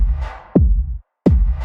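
Drum loop without hi-hats in a dark, cinematic Berlin School synth piece, with heavy low kick hits and a snare-like crack repeating in a steady pattern, loud and close, breaking briefly into silence.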